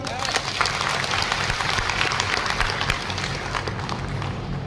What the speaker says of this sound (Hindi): एक बार ठोक दीजिए ताली